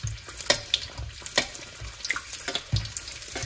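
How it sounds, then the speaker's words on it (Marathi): Mangalore buns frying and puffing up in hot oil, a busy close crackle and bubbling sizzle with irregular bursts and no talk. "तेल पळय भाजून येताना ते पफी जातात पळय फुलतात पळय कशें"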